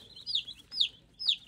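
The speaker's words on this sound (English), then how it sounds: "26 are meat chickens" Baby meat chicks, young broiler chickens, give three distinct high chirping peeps spaced about half a second apart, close and clear over a quiet background with no talking.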